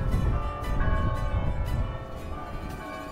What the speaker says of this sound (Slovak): Bijúce zvony pekne počujúc na celé mesto.